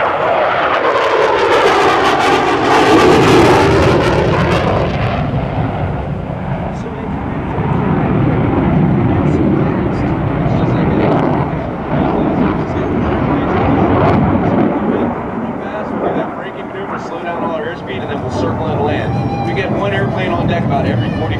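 F/A-18F Super Hornet jets flying in for a carrier break at an air show open house, a loud sustained engine roar that swells early then rumbles on steadily, with a voice talking over it.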